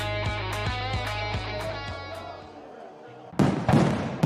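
Fireworks sound effects in an advertisement for Bangers Fireworks, with rhythmic music and thumping beats giving way to a few sharp, loud crackling bursts near the end.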